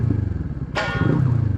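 A Kawasaki Ninja 400 twin-cylinder motorcycle engine idles with a steady low throb, then a brief sharp rev bursts out before settling back to a lumpy idle, close by.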